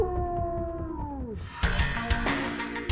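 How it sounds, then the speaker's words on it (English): A grey wolf gives a long, clear howl that slides down in pitch and fades, then is cut off by abrupt, louder knocking and rustling sounds. "A strong howl can be heard 10 miles away."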